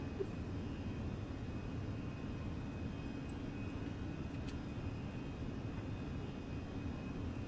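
A Fenix A320 airliner climbing out of Auckland in a flight simulator game, a steady low engine roar and cabin rumble that drones on evenly without talk.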